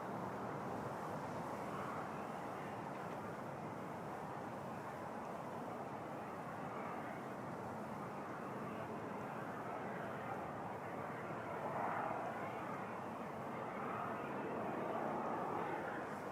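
Air Canada airliner taking off from runway 05 at Toronto Pearson, a steady broadband jet roar that holds constant and swells slightly near the end, heard from a distance.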